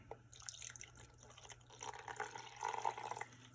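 Faint trickling water pours into a pan while cooking orange chicken, soft and close, with a low hum in the background.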